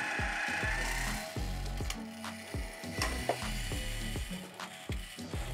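Adjustment knob turned on a Logosol Grindlux band blade grinder, giving a steady series of close, crisp ratchet-like clicks with a few brief mechanical knocks, heard on its own.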